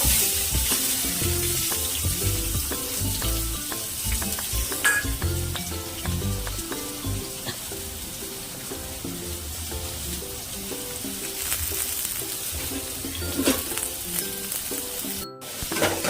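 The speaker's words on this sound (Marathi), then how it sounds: "कांदे दोन तीन कापलेले आहेत हे कांदे ते टाकलेले आहेत" Onions and garlic fry in hot oil in a pan at close range, a dense continuous sizzle with crackling pops and occasional stirring scrapes throughout, no speech.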